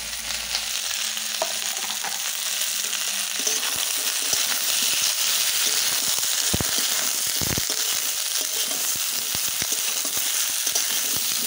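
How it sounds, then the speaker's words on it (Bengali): Flat beans and freshly cut cauliflower go into a hot pan already frying other vegetables, and a loud, continuous sizzle and crackle follows, with a low hum early on and a few dull knocks from stirring. "এবার দিয়ে দিচ্ছি সিম, আর দিয়ে দিচ্ছি কেটে রাখা ফুলকপিগুলো"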